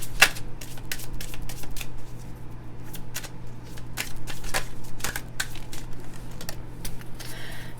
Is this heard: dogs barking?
no